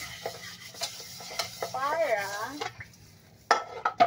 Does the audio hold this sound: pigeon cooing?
no